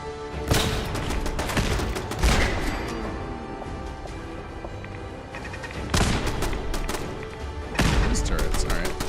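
Automated turrets in Fallout 4 (Sim Settlements 2) fire repeated bursts of gunfire, loud and close, with sharp volleys clustering near the start and the end amid ongoing game noise.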